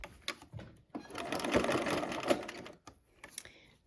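Sewing machine stitching quilt seams with the needle down, running in a steady close burst for about two seconds between brief stops and starts, loud and near, with no talk.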